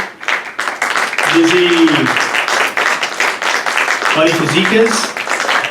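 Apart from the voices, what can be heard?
audience applause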